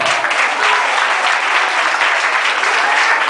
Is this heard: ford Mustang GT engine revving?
no